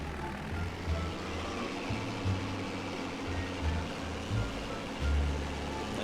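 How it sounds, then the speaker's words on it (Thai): Massey Ferguson tractor pushing soil in Farming Simulator 19, a steady low engine rumble with periodic louder surges as it strains against the dirt, close and continuous with no speech. "ดันยากค่อนข้างที่จะยากนิดนึงนะเป็นรถไถนะ"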